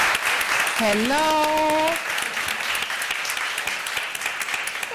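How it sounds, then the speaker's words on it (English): An audience applauds at a keynote and panel discussion event, dense sustained clapping heard throughout while a voice briefly speaks a greeting over it early on, the applause thinning slightly toward the end. "Big applause."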